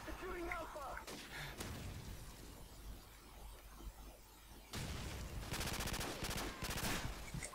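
Call of Duty 4 multiplayer combat in a Domination match, with a grenade blast and bursts of rapid gunfire that are loud and dense near the end, crackling with shattering noise, and a player speaking over the game.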